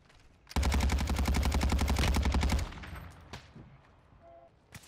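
A loud, rapid burst of automatic gunfire rattles for about two seconds in the Warzone shooter, followed by a few scattered fainter shots and distant noises as the volley ends.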